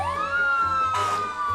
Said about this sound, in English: They got their sirens on.